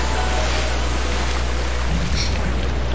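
Steady rushing water flowing in the video game Okami HD, a continuous broadband wash with a low hum beneath, holding evenly throughout with a slight shift near the end.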